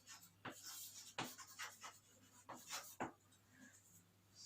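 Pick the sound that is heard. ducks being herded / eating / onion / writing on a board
writing on a board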